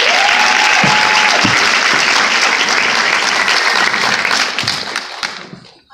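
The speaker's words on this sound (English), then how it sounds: "Let's give her a big round of applause." Sustained audience applause fills a gathering honoring a dreamer being brought up on stage, loud and dense for about five seconds before it thins and fades out, with a brief tonal whistle near the start.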